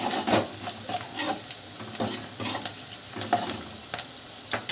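Sliced onions fry and sizzle with salt in a pan for a ridge gourd curry, with a steady hiss and intermittent stirring scrapes and clinks up close.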